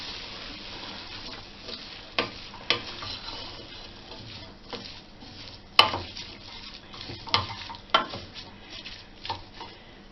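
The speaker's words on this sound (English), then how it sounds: "I've drained my potatoes, so I'm going to add my potatoes, just give it a stir" Drained potatoes are stirred into a pot of leek soup with a spoon, giving irregular scrapes and knocks against the pot over a soft steady background, with no talking.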